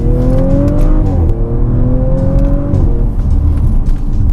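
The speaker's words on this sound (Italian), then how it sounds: "questa nuova RS5 con questo motore fa veramente forte" A powerful Audi RS5 engine revs loudly and close by, pitch climbing in two rising sweeps before settling into a deep, rumbling idle.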